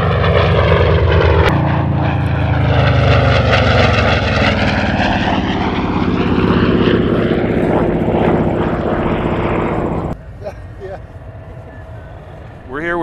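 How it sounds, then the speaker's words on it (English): A P-47 fighter makes a low flyby at an air show, its big radial engine and propeller roaring loud and close, with a strong falling pitch sweep as it passes before the noise drops off sharply. "comes Dan Damio in the P-47"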